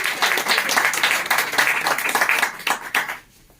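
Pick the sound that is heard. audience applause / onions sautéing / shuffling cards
audience applause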